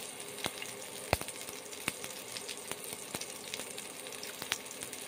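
Brinjal slices fry quietly in mustard oil, a soft, low sizzle broken by scattered sharp crackles and pops at irregular intervals.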